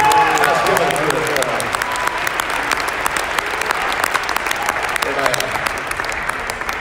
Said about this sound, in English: give a little hand clap of praise and celebration